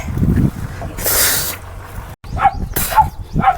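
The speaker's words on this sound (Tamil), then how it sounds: "நாய் கட்டி போட்டு வச்சுக்கிறாங்க, பயங்கரமாக குலைக்குது" Several barks from a tied-up dog at moderate distance in the Yelagiri hills, irregularly spaced, mixed with other noises and brief rustling.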